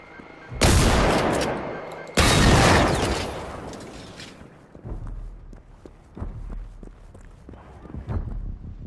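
A tank robot in the Generation Zero video game stomps along with heavy, low mechanical thumps about once a second, following two loud, roaring bursts of gunfire-like noise at the start.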